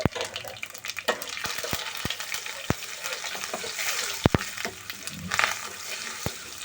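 Cumin seeds and turmeric fry in hot oil for a tempering, a steady crackling sizzle broken by sharp spoon taps and stirring clinks against the pan.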